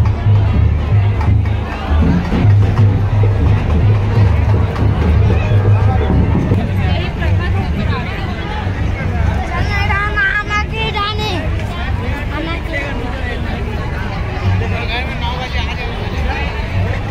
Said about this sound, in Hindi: आप जो भीड़ देख रहे हैं वो है चंडी मंदिर के पास पंचमुखी हनुमान मंदिर का